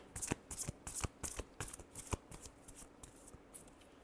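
Tarot cards are shuffled in quick, crisp riffles and flicks, a rapid rhythmic run of soft slaps that is close but quiet.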